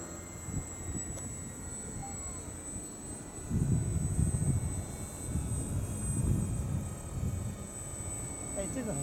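An FMS 1700mm PA18 model aircraft flies overhead at an airfield, its thin, steady motor drone rising and fading as it passes, while people talk nearby.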